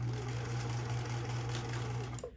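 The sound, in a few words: sewing machine stitching fabric for an Elven dress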